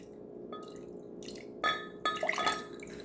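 Cold ice water is poured into a cup while making Jamaican patty dough, heard as close splashes and trickles with a few glassy clinks and drips, louder bursts near the end.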